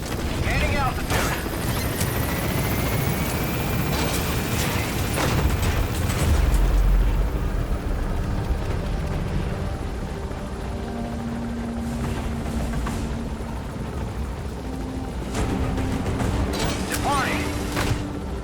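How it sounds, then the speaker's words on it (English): Enemy gunship helicopter in Metal Gear Solid V: The Phantom Pain, a steady rotor drone running throughout with booming, explosive bursts and game effects layered over it, while voices talk over the scene. "That's an enemy gunship."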